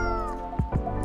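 A small cat meowing in the video game Coffee Talk, two short close meows over a steady background music bed.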